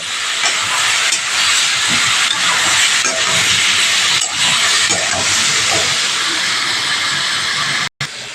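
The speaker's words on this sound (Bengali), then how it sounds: "এই জলটা দিয়ে আমি একটু কষিয়ে ভালো করে কষিয়ে নেব" Masala frying down with a splash of water in a pan, a loud steady hiss and sizzle filling the space close by, with brief swells in intensity and no talking.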